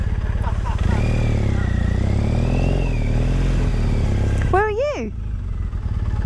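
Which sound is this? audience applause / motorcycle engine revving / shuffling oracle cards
motorcycle engine revving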